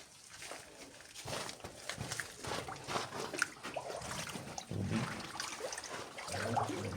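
Feet slosh and wade through shallow water inside a Japanese-era tunnel in Polomoloc, South Cotabato, with irregular splashing and swishing echoing close by at a modest level.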